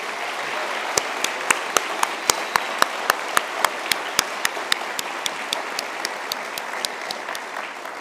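An audience at a University of Galway conferring ceremony claps in a dense, steady round of applause inside a hall, with a few loud, sharp individual claps standing out at a regular beat. The applause is close and sustained.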